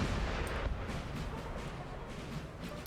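Artillery fire in Napoleon Total War during a Crimean War battle, Yevpatoriya 1855: a steady roar of distant cannon booms and battle noise, with a few louder thuds early on, fairly faint overall.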